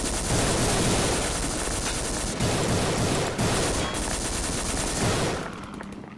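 Gunfire in Codename CURE, a video game, rattles in rapid continuous bursts with brief pauses, loud and close throughout before cutting off near the end.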